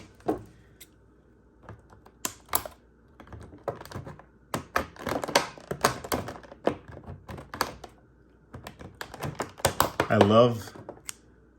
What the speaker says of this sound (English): Let's get her out of this packaging.